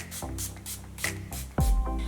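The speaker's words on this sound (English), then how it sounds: "I'm going to spray the Glow Mist again just to set everything" Pixi Glow Mist setting spray is spritzed onto a face in several quick, close pumps, each a short airy hiss, with a louder handling thump near the end.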